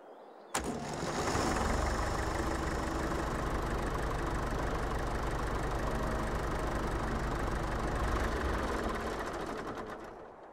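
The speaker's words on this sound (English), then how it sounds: "It's a nice sounding tractor." A tractor engine in Farming Simulator 22 starts with a sharp onset and then runs at a steady puttering idle, loud and continuous for about ten seconds before easing slightly at the end.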